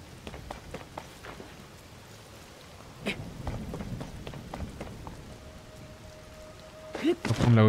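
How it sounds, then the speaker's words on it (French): Rain falls through a storm in The Legend of Zelda: Tears of the Kingdom, a soft continuous patter with scattered drips, then a low rumble of thunder and sharper sounds near the end, with faint talking underneath. "Et surtout, il pleut tout le temps."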